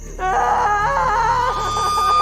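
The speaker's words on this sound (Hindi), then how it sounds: "ये चीख किसकी थी? लगता है कोई लड़की या औरत हो।" A woman or girl screams in a horror audio drama, one long, loud, wavering cry that breaks into sobbing wails as it fades, heard close and over a steady background tone.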